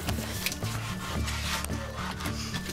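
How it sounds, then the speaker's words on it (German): Wooden boards are sanded by hand in a garden, giving rhythmic back-and-forth rasping strokes in a steady repeating pattern, fairly close and without speech. "Alina ist da hinten auch fleißig schon wieder am Schleifen"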